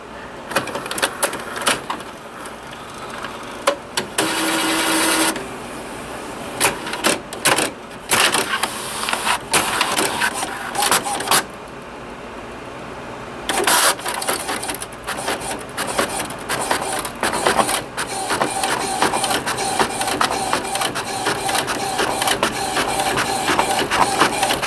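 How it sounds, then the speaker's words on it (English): Continuous mechanical whirring and rattling of an HP 5650 inkjet printer printing a test page after repair, with repeated print-head passes and paper-feed clunks, steady and close, no talking. "we're going to print out a test page here."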